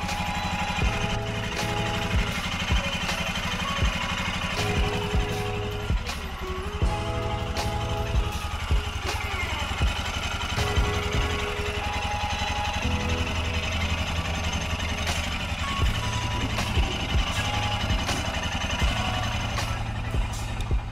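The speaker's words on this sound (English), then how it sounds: "Install the filler cap and start the engine." A 2023 Royal Enfield Himalayan / Scram 411 single-cylinder engine idles steadily after an oil service and valve adjustment, a continuous close mechanical hum with a fine ticking rattle throughout.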